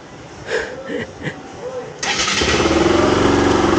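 A Kawasaki Bajaj RS200 motorcycle engine cranks and starts about halfway through, settling into a loud, steady idle after a few quieter mechanical sounds.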